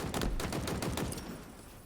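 Commando rifle gunfire in a competitive first-person shooter match, a quick volley of about half a dozen sharp, rapid shots that fades out within a second.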